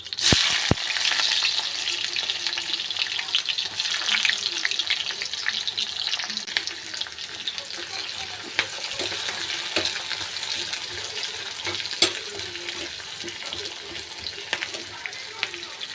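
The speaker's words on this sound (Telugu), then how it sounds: "ఆనియన్స్ వేసేస్తున్నాను." Onions fry in hot oil with mustard seeds and cumin in a home kitchen, making a continuous bright sizzle with a few sharp pops and clicks near the start and later on.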